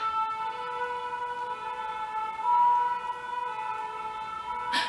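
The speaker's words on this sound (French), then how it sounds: "Voilà, les sirènes." A siren passes outside, a steady wailing tone with clear harmonics that holds for several seconds, swelling briefly midway and ending with a sharp noisy burst.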